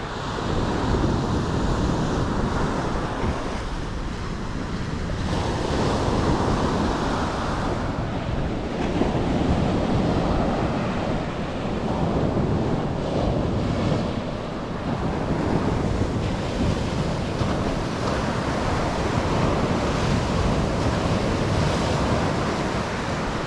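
Ocean waves break and wash steadily onto a beach, a continuous loud roar of surf mixed with wind buffeting the microphone throughout.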